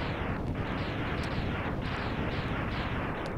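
Enemy explosions in the Mega Man X video game crackle in a dense, continuous barrage of loud booming bursts with rhythmic swells, heard alone without talk.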